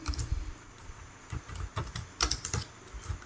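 Typing on a computer keyboard while writing a document in Word, irregular bursts of close, crisp key clicks with short pauses between groups of strokes.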